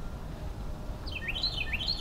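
Several birds chirp in a winter garden, short rising and falling calls arriving in quick bursts over the second half, moderately close, above a steady low outdoor rumble.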